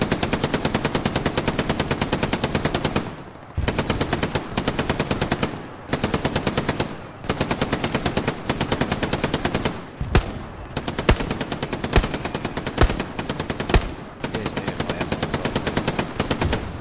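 Machine gun fire in the World War II video game Hell Let Loose: long, rapid automatic bursts, loud and close, separated by brief pauses, then shorter choppy bursts and single shots.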